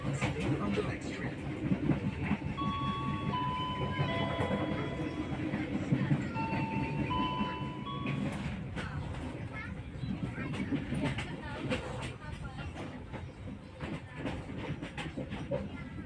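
KA Pandanwangi passenger train rolls on the rails toward Kalisat station in Indonesia, a steady close rumble with wheel clatter and brief squealing tones, heard from inside the carriage with faint voices in the background.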